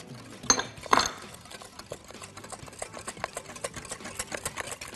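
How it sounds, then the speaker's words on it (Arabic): Eggs beaten hard with sugar in a bowl using a wire whisk make a fast, steady run of light rhythmic clicking and scraping, with two louder knocks near the start and no voices. "هضرب البيض كويس قوي مع السكر"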